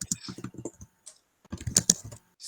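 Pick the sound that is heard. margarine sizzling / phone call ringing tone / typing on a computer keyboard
typing on a computer keyboard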